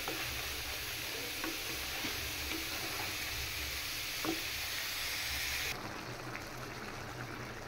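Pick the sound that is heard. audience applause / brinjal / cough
brinjal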